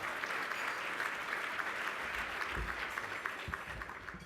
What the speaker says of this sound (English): Give Angela another round of applause.